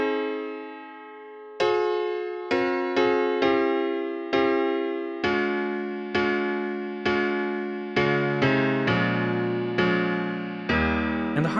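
Quiet piano-led breakdown section of a power ballad, with sustained chords struck one after another in a slow, steady rhythm, each ringing out and fading, growing fuller toward the end.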